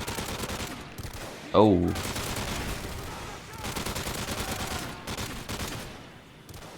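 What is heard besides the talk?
gunfire in video game Modern Warfare 3 survival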